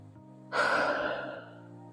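A single deep breath is drawn and released during a home leg and glute workout, a close, airy rush lasting about a second over faint background music.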